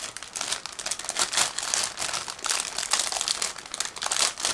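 A plastic bag crinkles continuously and close up while model kit parts for a 1/35 scale Miniart Tiran 4 Sharir tank with dozer blade are pulled out of it, in quick irregular rustling bursts.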